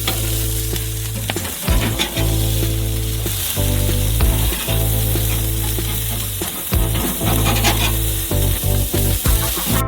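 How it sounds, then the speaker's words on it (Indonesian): Sliced burger patty meat frying in a pan for a burger, with a loud, steady sizzle broken by repeated scraping and stirring strokes throughout, no voices. "Goreng sedikit lagi dan keluarkan."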